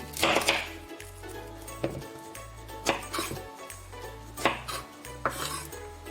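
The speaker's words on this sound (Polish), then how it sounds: "Zaczniemy od tego, że pokroimy cebulę na drobne kawałki." A knife chops an onion finely on a cutting board, giving crisp, close, repeated thuds in uneven clusters with faint clinks of kitchenware and no speech.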